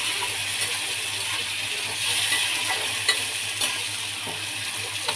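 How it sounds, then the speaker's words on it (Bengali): Shrimp and spices sizzle steadily in a frying pan while being stirred, with occasional sharp clinks and scrapes of the spoon against the pan over a constant close frying hiss. "একটু নাড়িয়ে চাড়িয়ে মশলাটাকে দিয়ে সামান্য জল ছিটিয়ে দিয়ে"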